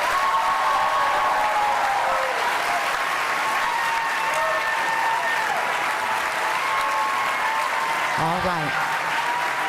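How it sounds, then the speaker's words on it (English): An audience applauds after a 2022 Wisconsin Senate debate between Mandela Barnes and Ron Johnson, a dense, continuous wash of clapping filling the room, with a brief spoken interjection near the end. "Now you can applaud for both of them."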